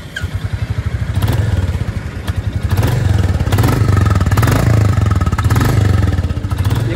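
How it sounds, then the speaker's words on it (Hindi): A Royal Enfield Classic 350 motorcycle, a long-stroke single, thumps through its exhaust in a fast, even pulse that swells with light revving, loud and close with no talking. "आपको बाइक जो है स्टार्ट करके इसकी एग्जॉस्ट साउंड सुनाता हूँ"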